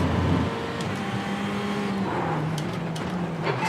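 Ferrari GT3 race cars in the iRacing video game at Brands Hatch, engines droning and shifting pitch close by as cars run together, steady and fairly loud with no talking.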